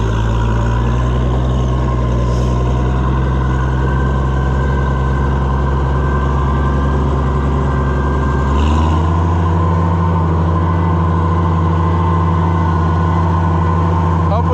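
Oliver 1655 tractor driving with a four-row planter in tow, its engine droning loud and close in a steady low rumble that shifts pitch midway as the revs change, with voices talking over it.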